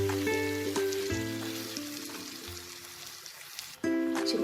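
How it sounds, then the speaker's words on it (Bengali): Chicken chaap, Kolkata restaurant style, sizzles in its own marinade in a kadai with no water added, a continuous frying crackle with a few soft clinks and stirring sounds. "এটাকে আমাদের এই ম্যারিনেশনের মধ্যেই চিকেনটাকে রান্না করতে হবে।"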